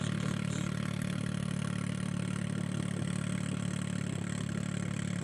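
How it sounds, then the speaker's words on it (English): A rally car from the Abu Dhabi Desert Challenge stage start idles steadily nearby, a continuous mid-pitched engine hum with light clatter and no talk over it. "All right, next car pulling in."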